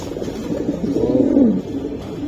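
Racing pigeons from a club loft give a low, rolling coo that swells and fades over about a second, close and clear against a faint background hum, with no talking.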